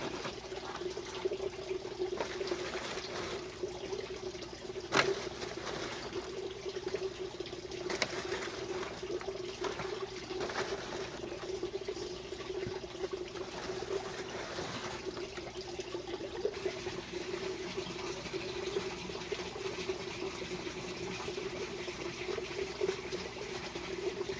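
Water is poured steadily into an adenium (desert rose) seed tray filled with soilless media, a soft continuous trickle and splash heard close up with no talking.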